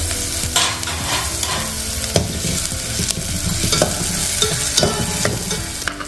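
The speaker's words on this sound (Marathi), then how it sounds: "आपल्याला हा कांदा जास्त लालसर करायचा नाहीये, थोडासा असा परतून घ्यायचा आहे।" Onion and green chillies sautéing in a pan for paneer pulao, with a steady sizzle and frying crackle under repeated scraping and stirring strokes of a spoon, close and continuous throughout.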